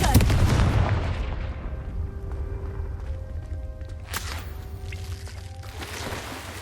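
A Confringo spell explodes in Hogwarts Legacy with a loud, booming blast right at the start, then a long rumbling tail under game music with a second, smaller burst midway.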